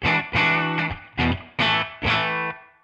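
Electric guitar plays a short phrase of sustained notes and chords through a Dumble Overdrive Special amp model with a warm, lightly driven tone and a touch of reverb.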